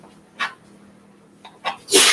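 A person sneezes during a kitchen cooking demonstration: two short breathy bursts, then a loud, sharp, close-up sneeze at the end.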